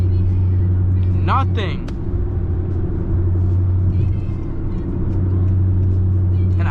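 A Honda Accord 1.5 LX engine drones at a steady low hum from inside the cabin while driving, with continuous road rumble and someone talking briefly over it.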